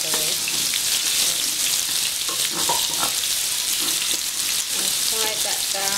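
Onions frying in hot oil for a Nigerian meat pie filling, giving a steady, dense sizzle that runs loud and unbroken from start to finish, with a few faint utensil touches and no talk.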